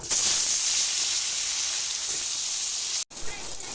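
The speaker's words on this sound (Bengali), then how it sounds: "লবণ হলুদ মাখানো পটলগুলো ভেজে নেব।" Pointed gourd slices coated in salt and turmeric fry in hot oil with a loud, bright, steady sizzle that cuts out for an instant near the end and then resumes.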